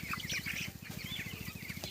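Broiler chickens raised on straw bedding cluck softly at close range over a steady low rhythmic hum.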